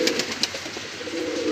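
A Rampuri pigeon coos up close, a steady, throaty murmur lasting about a second and a half, with a few light clicks near the start.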